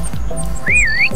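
A whistle sounds in the video game PixARK: one clear, loud, rising-and-wavering tone of about half a second, with faint game sounds underneath.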